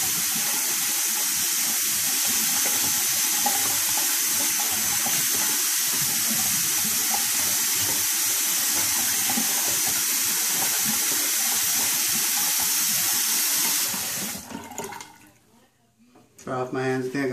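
Warm water runs strongly from a tap for a rinse while shaving, a loud steady gushing hiss. It cuts off near the end, followed by brief handling noises.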